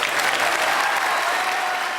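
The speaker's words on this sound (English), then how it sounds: "Jimmy deserves an extra round of applause" Audience applause at a World Snooker Championship final, a dense, loud, continuous wash of clapping from a large crowd, sustained and even throughout.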